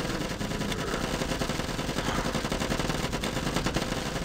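Dense, continuous automatic gunfire mows down zombies in the game Zombie Defence, a loud rapid rattle of overlapping shots with no pauses.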